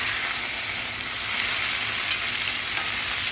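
Hamburger steak sizzling hard in a preheated, very hot iron skillet, a loud, steady, close frying hiss that runs unbroken with no talking.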